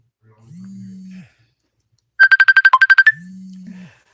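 A telephone ringtone plays a quick burst of about a dozen bright electronic pulses, loud and close, set between stretches of a low steady hum.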